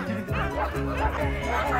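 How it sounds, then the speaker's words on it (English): Huskies at a dogsledding centre bark and yip repeatedly in an overlapping chorus, loud and fairly close, with some whimpering mixed in and a bit of human laughter. "You hear the dogs in the background?"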